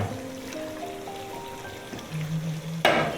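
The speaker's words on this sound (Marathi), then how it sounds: "तर चला आपण फोडणीचं करतोय. चिकन घालून घेतो." Chicken dropped into hot spiced oil for a village-style tempering sizzles close and steady, then flares into a louder, brighter hiss near the end.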